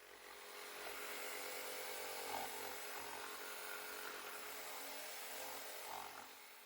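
A corded Amazon jigsaw fitted with a curve-cutting blade saws through wood with a steady, buzzing whine that holds for several seconds, close and continuous, with no talking.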